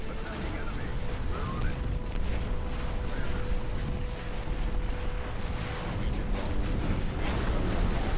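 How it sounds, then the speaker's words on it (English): Explosive bombing run air strike in the RTS game Ashes of the Singularity 2, a dense continuous roar of blasts and gunfire rumbling steadily throughout, with speech mixed in. "Bombing run."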